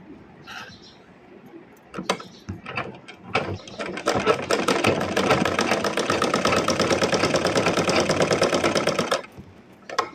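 A few scattered taps and clicks lead into a sewing machine running steadily for about five seconds, a fast rhythmic mechanical whir and clatter as pleats are stitched on the back of a blouse, then stopping.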